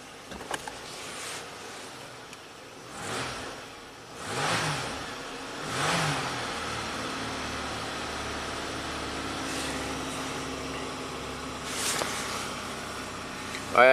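A 1985 Oldsmobile engine with a vacuum leak and no power runs rough, with several brief revving swells early on before settling into a steady, shaky idle hum.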